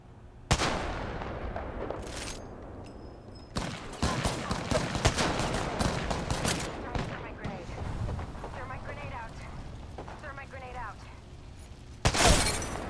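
Gunfire and impacts from an Apex Legends match, with loud sharp bursts at the start, middle and end, a dense busy stretch of shots and effects in between, and someone talking excitedly over the fighting.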